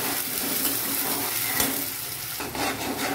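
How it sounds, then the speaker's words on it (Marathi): Chopped onion sizzles steadily in hot oil in a pan while cooking pav bhaji, giving a loud, continuous crackling hiss with an occasional stir or scrape and no talking. "तेल आपलं तापलेलं आहे, त्यामध्ये कांदा ऍड करायचे।"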